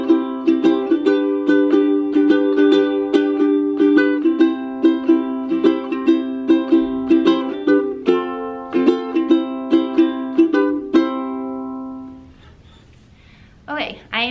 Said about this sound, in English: So this is the concert ukulele, sounds like this.